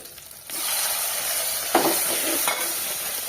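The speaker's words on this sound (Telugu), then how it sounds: "ఇప్పుడు టమాటా వేసుకుందాం ఫ్రెండ్స్ ఇందులో" Tomato pieces hit a pan of ginger-garlic paste and fry with a steady, close sizzle, with a louder burst and spoon stirring partway through as the frying continues.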